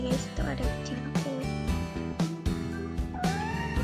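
A pet cat meows repeatedly indoors, several short, wavering calls in a row at close range, with a person talking faintly underneath.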